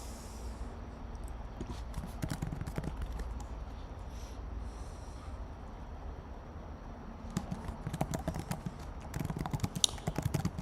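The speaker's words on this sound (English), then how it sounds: "I'm just typing the message" Quiet computer keyboard typing, irregular bursts of soft key clicks, sparse early then denser clattering toward the end, heard up close in a calm room.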